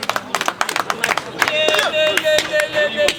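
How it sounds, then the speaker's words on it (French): Guests clap at a wedding ceremony honoring the first witness, scattered claps at first that build into fuller applause, with voices and a sustained tone mixed in. "Applaudissez le premier témoin."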